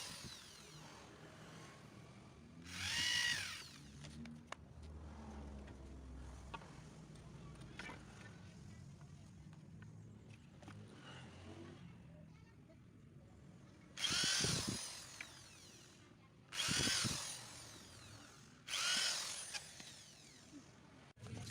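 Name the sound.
power drill drilling holes in wood ends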